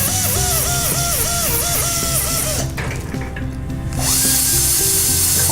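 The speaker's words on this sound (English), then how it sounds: "Now we go into our final stages of polishing, starting through our discs" Dental polishing discs running on a composite restoration: a close, high-pitched rotary whine that rises and falls in repeated pulses, drops out briefly near the middle, then resumes steadily, with no voices.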